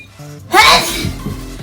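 A single sharp sneeze bursts out, loud and close, followed by quieter low rustling and background sounds.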